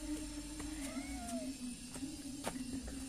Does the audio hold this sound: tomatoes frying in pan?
no